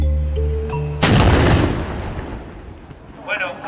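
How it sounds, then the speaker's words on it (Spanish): A single loud artillery gun blast at a historical reenactment in A Coruña booms out and rumbles away over a couple of seconds, followed by faint distant voices. "acabamos de ver un disparo de artillería"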